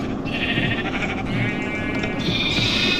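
Sheep bleat in a modded Minecraft game, a steady run of wavering bleats over about three seconds at close range, with a dense, constant game background underneath and no speech.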